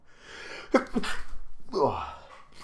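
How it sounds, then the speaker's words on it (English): A single sharp sneeze bursts out from a nearby man, preceded by a quick inhaling gasp and followed by a breathy second exhalation, in an otherwise quiet room. "Editing Dave will edit out that sneeze that I just did."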